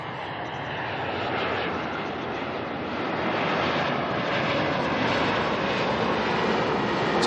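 A Learjet jet aircraft at Auckland Airport produces a steady, loud engine roar that swells gradually and holds without a break, heard from a spotting position with no one speaking.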